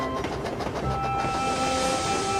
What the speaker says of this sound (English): Gordon and Percy puffed through the snowy countryside